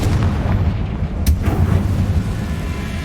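Confringo fire spell blasting in the Hogwarts Legacy video game, a loud booming explosive burst with a sharp crack and a rumbling low-end tail.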